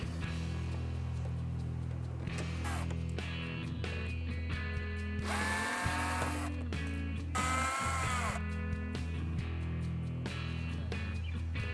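A power tool backs out 8 mm bolts holding the upper bumper and inner fender well on a 2012-2015 BMW 3 Series F30 sedan, with two bursts of whirring drive over a steady mechanical hum.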